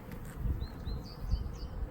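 A steady, close swarm-like buzzing of many honey bees at an open hive, with a few higher chirps over the low hum.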